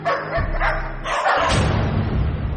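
A dog barks loudly and close by in a short burst of repeated barks with whining yips, heard alone with no talking.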